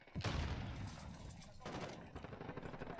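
A grenade explosion bursts in Call of Duty: Warzone, a loud boom followed by sustained crackling gunfire and rumbling battle noise for several seconds, with a voice talking underneath.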